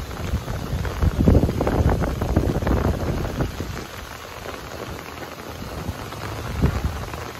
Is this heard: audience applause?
no